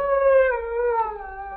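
A voice imitates a wolf howl in a 1942 comedy radio sketch, a single sustained, slowly falling tone held close and loud for over a second with no other sounds.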